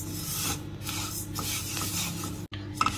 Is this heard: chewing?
no